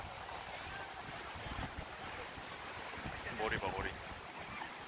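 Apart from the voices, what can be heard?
waves crashing around boat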